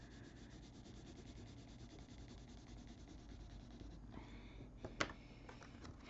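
Crayola colored pencils rubbing on paper make a steady soft scratchy shading sound, very close and quiet, with a few tap-like strokes near the end.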